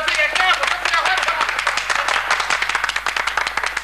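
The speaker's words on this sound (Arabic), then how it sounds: "صفقوا لها يا اخوتي" Audience clapping in a lively crowd, many hands striking in dense, irregular bursts with voices mixed in throughout, fairly close and loud.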